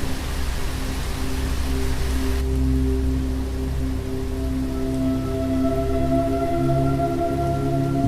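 Heavy rain falls in a steady, even wash of noise, with sustained low tonal hums running beneath it throughout.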